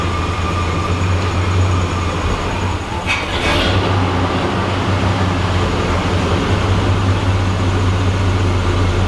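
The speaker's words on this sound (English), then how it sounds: "You might have to turn up that idle." A 1986 Oldsmobile Cutlass engine, just revived after being pulled from a junkyard, idling with a loud, steady low rumble that holds unchanged throughout, with a brief faint rattle partway through.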